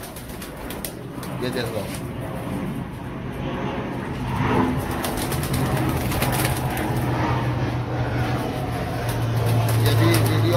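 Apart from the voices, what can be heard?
pigeons cooing and flapping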